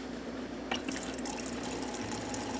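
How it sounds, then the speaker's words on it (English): Hot water runs in a steady stream from the group of a Gaggia espresso machine after a full tune-up, a continuous close hiss and trickle with a brief splashy onset. "As you can see, steady stream coming out of the machine."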